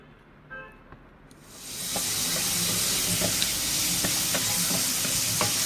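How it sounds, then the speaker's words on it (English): Chopped onions and tomatoes hit hot spiced oil for Goan dal, and a loud, steady sizzle bursts up after a quiet start, with occasional spatters and stirring clicks through the frying. "Now fry the onions and tomatoes also very well with the rest of the bagar."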